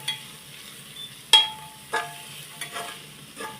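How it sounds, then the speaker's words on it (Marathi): Turmeric and salt are stirred into moong dal khichdi in a pan, heard as a few quiet, distinct scraping strokes of a spoon spaced over a soft background hiss. "इथं मी अर्धा चमचा हळद घेतली एक चमचा मीठ आणि हे व्यवस्थित असं हलवून घेऊया"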